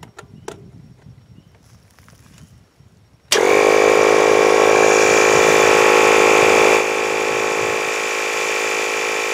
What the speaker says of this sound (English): the only thing I have to test this with is this blue air compressor